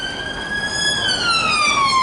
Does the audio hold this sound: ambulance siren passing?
yes